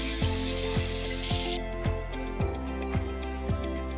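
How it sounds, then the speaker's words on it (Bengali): Pangas fish rubbed with turmeric, chili and salt fries in a pan with a hissing sizzle that cuts out partway through, under louder rhythmic music with a steady beat. "এখন ভেজে নিচ্ছি।"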